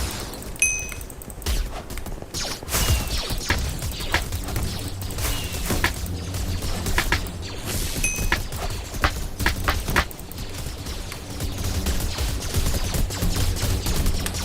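Rapid bursts of blaster gunfire crackle in a Minecraft Star Wars minigame, with repeated shots and occasional booms and thuds spread throughout, loud and continuous without talk.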